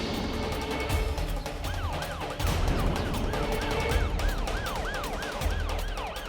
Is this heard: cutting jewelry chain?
no